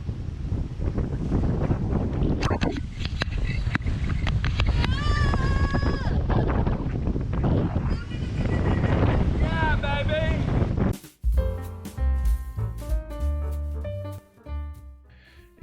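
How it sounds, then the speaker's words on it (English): A sailing yacht beats into the wind blowing down a channel off Greece, with loud, constant wind buffeting on the microphone and rushing water close by for about eleven seconds before music takes over. "we spent some considerable time beating into the wind that was blowing down the channel"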